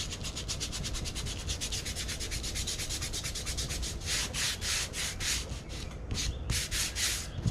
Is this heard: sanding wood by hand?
yes